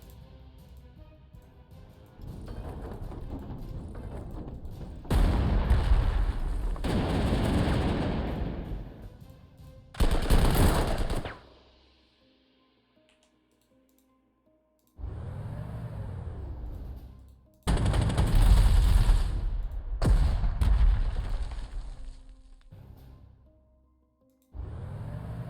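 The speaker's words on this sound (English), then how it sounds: "let's first fire with artillery to remove entrenchment" Artillery fire in the wartime strategy video game Panzer Corps 2, several loud separate booming salvos with rumbling tails, spaced apart by quiet gaps.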